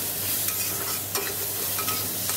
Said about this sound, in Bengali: কাঁচা আমের টক মিষ্টি একটু নেড়ে চেড়েই আমি জল দিয়ে দেবো